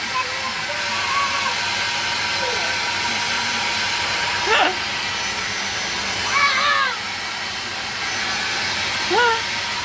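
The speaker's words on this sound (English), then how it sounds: "It is really hard to use this hoover, I'll be honest." A household vacuum cleaner runs continuously with a steady loud whirring hiss, rising briefly in pitch a few times as it moves, while people talk over it.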